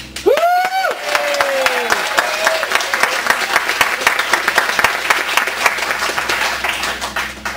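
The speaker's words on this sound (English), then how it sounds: "I think a little round of applause here for her amazing efforts, Bev." Audience at wedding speeches breaks into a warm round of applause, dense steady clapping from a roomful of guests that carries on after a brief voiced call at the start.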